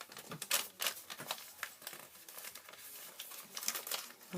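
Close, sharp crinkling and rustling of a plastic package as staples are pulled out, with irregular bursts of crackle as something is worked loose.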